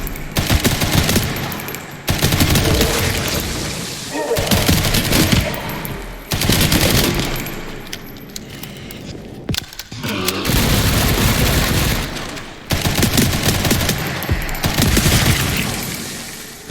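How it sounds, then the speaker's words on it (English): Loud sustained machine-gun bursts in Resident Evil Requiem, fired in long strings of several seconds separated by brief pauses. "I forgot I have a machine gun."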